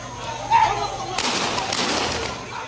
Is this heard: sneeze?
no